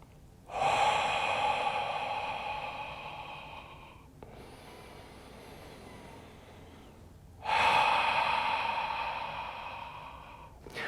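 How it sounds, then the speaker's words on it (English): A person breathes deeply for bloating relief: a long, loud inhale, a quiet held pause, then a second strong breath near the end, close and alone without talk. "Once you take a deep breath in, hold it for a couple seconds, and then you're going to exhale out through your mouth."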